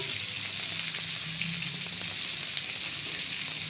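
Capsicum frying in a pan for poha pulao, a steady close sizzling hiss that stays even throughout with faint stirring sounds.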